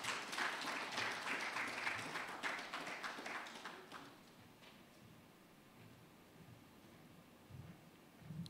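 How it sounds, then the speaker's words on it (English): An audience at a Ghana Institute of Architects annual general meeting applauds to welcome the president-elect, a broad wash of clapping that fades after a few seconds into quiet room sound with faint rustling. "Shall we welcome him with a round of applause?"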